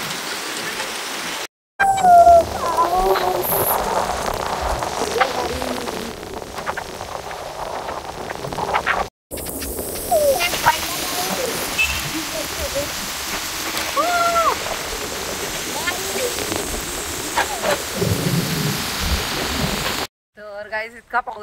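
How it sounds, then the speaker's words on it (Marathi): Heavy rain in Lonavala makes a dense, steady hiss of falling water throughout, close and fairly loud, with people talking over it and no clear thunder. "तर गाईस इतका पाऊस पडत होता"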